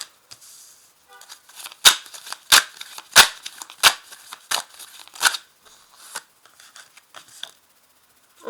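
Tarot cards are shuffled and then laid down one by one on a table, making a series of sharp, close snaps and papery slaps at an uneven pace with soft rustling in between.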